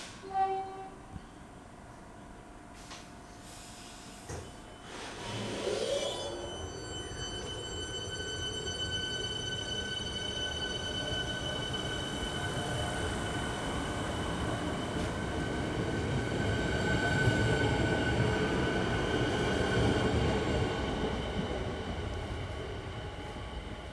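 A Siemens Nexus train passes close by in Melbourne, its electric motors whining with rising tonal hums over a steady rumble of wheels on track.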